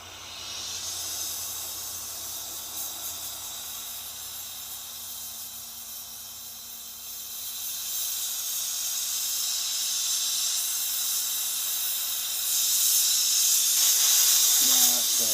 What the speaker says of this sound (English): It's just going to take a much bigger torch to fire polish that copper.